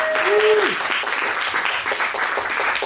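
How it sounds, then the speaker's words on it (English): A small crowd at a spoken-word poetry night gives a round of applause, with steady dense clapping throughout and a brief whistle or cheer near the start. "Round of applause, please."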